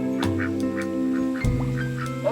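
A duck quacks repeatedly in short nasal bursts, several calls in uneven rhythm at close range, with a low thump partway through and no talking.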